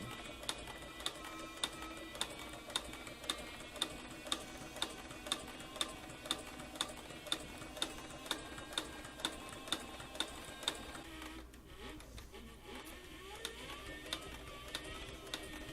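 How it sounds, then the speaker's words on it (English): Cowboy leather sewing machine stitching through two layers of 13–15 oz saddle skirting plus saddle shearling: steady, evenly spaced mechanical ticks about twice a second over a low motor hum, pausing briefly near the end. "I'm sewing through 2 layers of 13 to 15 ounce saddle skirting and 1 saddle shearling"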